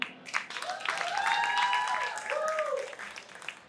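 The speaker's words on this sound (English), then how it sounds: "So a round of applause for the panelists again." Audience applause for a panel at a Jack Daniel's Salon event in Atlanta, a steady wash of clapping swelling through the middle and tapering off, with some cheering and voices mixed in.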